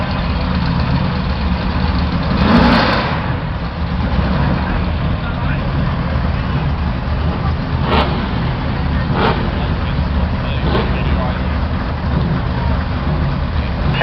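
Race cars lined up at the start line for opening burnouts at the Brashernats 2026 event, engines idling and rumbling steadily and loudly throughout, with crowd chatter and talk over the top.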